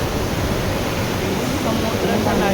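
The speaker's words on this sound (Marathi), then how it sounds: "समुद्राच्या लाटा कशा येत आहेत" Sea waves wash onto a beach near Alibag under a hot sun, a steady, loud broadband rush of surf that fills the whole stretch without clear breaks.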